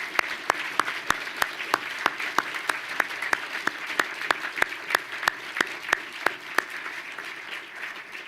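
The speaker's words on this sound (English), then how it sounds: "I think we should applaud them for their support of the arts" Applause at the MCAD Winter 2013 commencement ceremony: a steady wash of clapping runs the whole time, with one sharp clap standing out at a regular, evenly spaced pulse.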